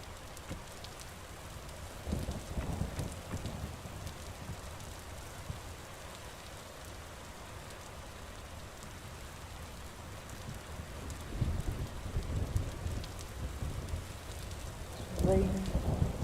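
Steady rain falls in the Vintage Story video game, a constant wash of noise with low thunder rumbles rolling in around two, eleven and fifteen seconds, and no voice over it.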